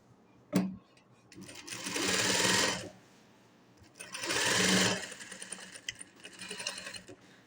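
Sewing machine stitching fabric during tailoring practice, with two long bursts of steady whirring and a shorter third run, separated by pauses with brief clicks and handling noise; close and fairly loud, with no talk.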